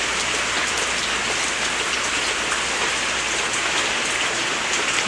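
A sudden summer downpour drums steadily and densely on surfaces near a garden of potted plants, a constant loud hiss of rain with no voices.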